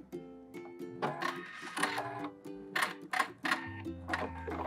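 Sewing machine back stitching and overlapping stitches on the hem of an elastic-waist skirt: quiet, rapid mechanical ticking runs in several short bursts with brief pauses between them, close by and with no talking.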